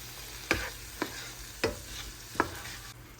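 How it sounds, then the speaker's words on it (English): Diced tomatoes with basil, garlic and oregano are stirred in a pot, giving four distinct spoon scrapes at irregular intervals over a faint background hiss, close and fairly quiet. "And then we're just going to stir that around."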